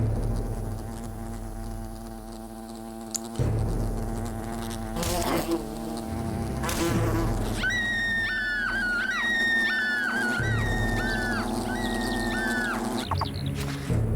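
Giant wasps in the Fable Anniversary video game drone with low, thick buzzing and shrill chittering calls, layered over rumbling game ambience and sudden sweeping effects. No one speaks.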